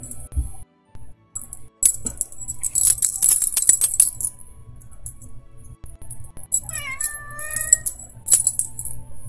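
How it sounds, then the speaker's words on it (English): A cat gives a short, rising meow partway through, set among light clicking, tapping and jingling sounds, with sparse quiet gaps before and after. "Meowing. He says, I want attention."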